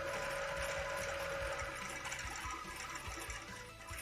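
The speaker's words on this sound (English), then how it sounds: "My sewing machine is going mental" A sewing machine stitches a fire embroidery design for a cosplay piece, running as a continuous, busy whirring hum with a faint steady whine, quiet and alone.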